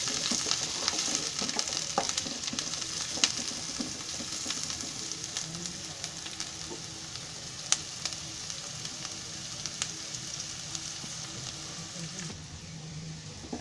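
Chopped onion frying in a pan with green chillies for a bottle gourd curry, giving a continuous loud sizzle with occasional stirring scrapes, close and unbroken, with no talking.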